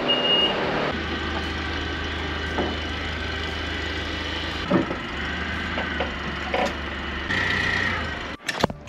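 A transport truck idles nearby with its reversing alarm beeping at a steady rhythm over the engine rumble, with a few clanks and a louder knock near the end.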